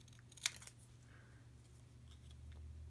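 Scissors snip a small paper banner in a quiet room, one sharp close cut followed by a few faint softer snips.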